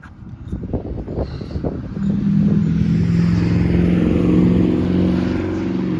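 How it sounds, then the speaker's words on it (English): A car passes along a town street, its engine hum building and holding steady for several seconds, mixed with wind noise on the microphone, with no talking. "Nice car right there."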